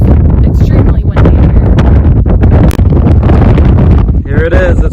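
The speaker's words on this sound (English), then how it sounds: "we've learned it's extremely windy" Strong wind blowing across a sand dune at sunset, loud gusty buffeting roaring on the microphone throughout, with voices talking underneath.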